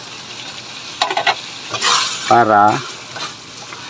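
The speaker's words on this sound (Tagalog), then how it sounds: "Ibabalik na natin yung ating stir fried na fettuccine pasta" Stir-fried fettuccine pasta tossed back into a pan with sauce, giving a burst of scraping stirs and utensil clatter followed by a short loud sizzle, with a brief spoken word in between.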